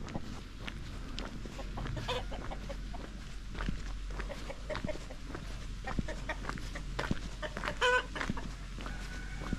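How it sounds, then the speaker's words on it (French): A rooster clucks repeatedly at a rural hiking stop, with short scattered clucks and a brief louder burst of calls, moderately close over steady outdoor background noise. "Alors mon coq."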